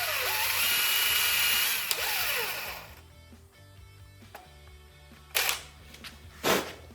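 Power drill with a 3/32 bit boring a short way into a Volkswagen 2021cc stroker engine part, a loud steady whine for about three seconds that then stops, followed by quieter workshop clatter and two brief bursts of noise.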